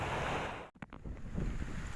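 Strong wind roars across the microphone at sea with rushing surf, briefly cutting out for a moment before the gusting resumes.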